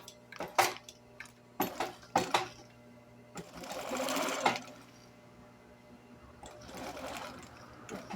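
A sewing machine stitching a faux leather pocket, several short bursts of quick mechanical chatter separated by pauses, close and fairly quiet, with no talking.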